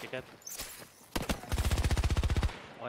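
Rapid automatic gunfire in Battlefield 2042 sounds out as a fast, even burst of a dozen or more loud shots, preceded by a few scattered single reports, close up with some speech faintly around it.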